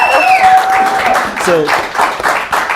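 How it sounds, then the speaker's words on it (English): Applause for a guest on a live talk show: scattered, brief clapping from a small audience mixed with overlapping voices and cheerful talk. "We give Tiffany a round of applause for being on here"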